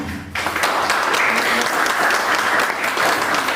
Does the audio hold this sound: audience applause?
yes